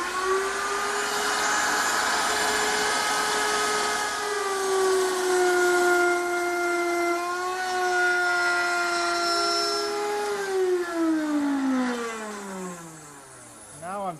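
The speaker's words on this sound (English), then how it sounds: "Now I'm just going to raise the router up a little bit to cut the mortise deeper." A router works a mortise in real hardwood, taking shallow passes toward a one-inch depth: a loud, steady high-pitched motor whine with strong tonal harmonics that shifts pitch as the bit loads and eases, running continuously.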